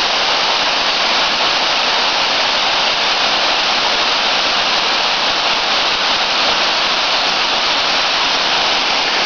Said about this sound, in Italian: Questa è la cascata Fermona a Ferrera di Varese,